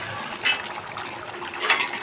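Water rinsed from a bowl is poured into a cooking pot of Hyderabad chicken biryani curry, giving two short splashing gushes in a brief, moderately loud burst with no talk.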